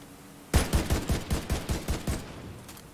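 Rapid burst of automatic gunfire in the video game The Division 2, around ten evenly spaced shots over two seconds that fade out, with no talking.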